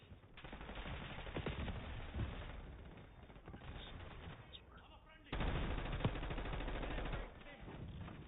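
Rapid video-game gunfire rattles in sustained bursts, loud and close, with a louder volley near the end, amid shooter game effects and callouts.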